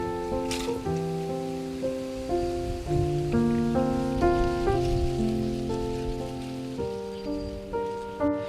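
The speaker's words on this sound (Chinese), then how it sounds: "雨声，" Rain patters steadily on surfaces in a nearly empty mountain village in China, a soft continuous hiss beneath gentle instrumental music.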